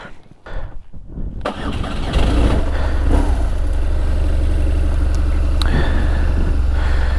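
A motorcycle engine fires up with a few rough catches, then settles into a loud, steady, close running rumble before riding off.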